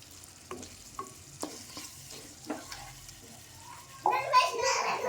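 A spoon stirs bottle gourd and tomato curry in a pan: a few soft scrapes and taps over a faint low hiss, then a louder sizzling burst near the end, with faint background voices.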